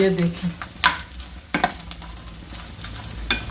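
Edible gum (gond) fries and puffs up in hot oil with a close, continuous sizzle and a few sharp stirring clicks, while someone speaks briefly at the start.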